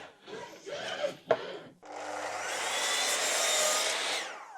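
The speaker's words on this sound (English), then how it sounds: "I'm going to take them over on the miter saw and just cut that painted edge off" A miter saw trims the painted edge off plywood shelf pieces: a few scraping, shuffling handling sounds, then the saw spins up into a loud, steady whining cut that lasts several seconds before winding down.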